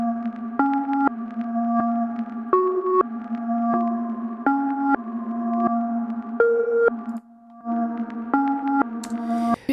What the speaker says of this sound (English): It's almost like it has this reverse type effect with it